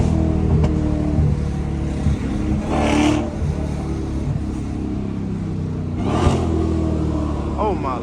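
A Dodge SRT Hellcat pulls hard from the driver's seat, its engine note surging steadily under heavy wind buffeting, with someone talking over the sound.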